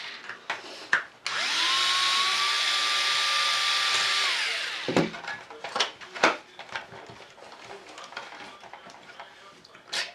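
A power tool whirs steadily for about three seconds while the wheel comes off an RC car, followed by light clicks and handling clatter with a voice speaking nearby.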